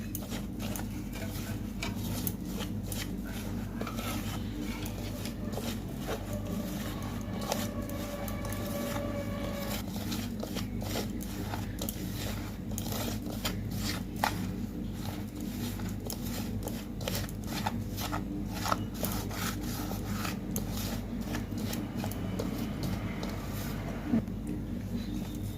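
Hands mixing flour dough for eggless buns with soybean oil in a home kitchen, a long run of soft, sticky patting and squelching strokes with faint scrapes, steady and close, over a low constant background hum.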